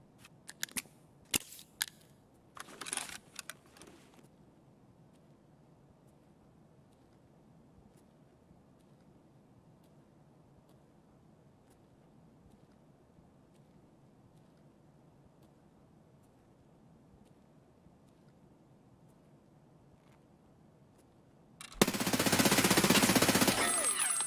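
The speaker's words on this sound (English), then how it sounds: "We just heard him shoot. We know he has a suppressed weapon." Suppressed weapon fire in the video game Escape From Tarkov: a few brief clusters of muffled, cracking shots early on, then a long quiet stretch before a loud, steady burst of broadband noise near the end.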